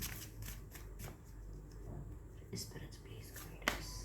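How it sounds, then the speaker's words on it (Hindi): Tarot cards shuffled and drawn in a quiet room, a run of soft papery riffles and slides with a sharper snap near the end, close and fairly faint. "चलिए एक कार्ड और लेते हैं।"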